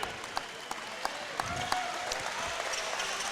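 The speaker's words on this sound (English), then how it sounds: "A nice hand from the crowd" A basketball crowd at a women's game gives a modest round of applause as a favorite player checks in, with scattered sharp claps standing out over a soft, steady wash of hand-clapping.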